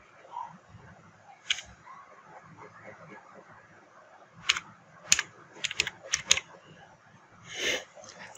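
Quick clusters of computer keyboard clicks come in bursts while someone speaks quietly between them, entering text in Canva graphic design software.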